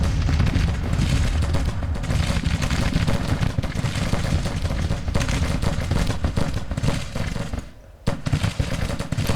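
Artillery bombarding Federal troops in Grand Tactician: Civil War, a dense, continuous barrage of overlapping booms and gunfire with a brief lull near the end before the firing resumes.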